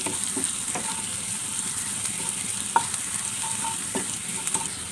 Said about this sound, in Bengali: পেঁয়াজটাকে হালকা ভেজে নিচ্ছি